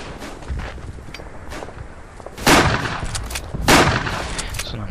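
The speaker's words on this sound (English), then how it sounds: "So I'm just trying to shoot down the reinforcements" Rifle shots crack in the First World War shooter game Verdun, two loud close reports standing out over scattered distant gunfire and a busy battlefield rumble.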